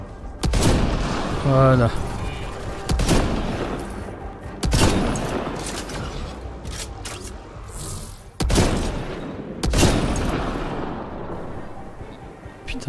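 Gunfire from a firefight in the sci-fi shooter Mass Effect Andromeda: loud, sharp shots and bursts recur through the scene over dense game noise, while someone talks briefly over it.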